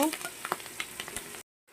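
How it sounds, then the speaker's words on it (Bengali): Slit green chilies and radhuni seeds sizzle in hot oil, a steady crackling fry with a few sharp pops and spatters, which cuts off near the end. "এটা একটু ভাজতে দেব"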